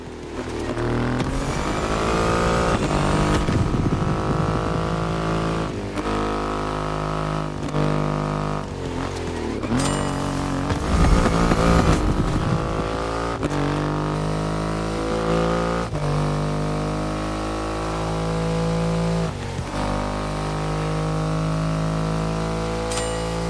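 A Triumph Rocket 3 motorcycle with a 2.5-litre engine in The Crew Motorfest video game, a loud, deep engine roar rising and falling through repeated revs and gear changes for over twenty seconds, with no talking.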